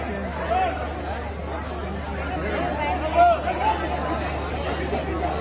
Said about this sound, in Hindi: लोकेशन पे ये भीड़ है।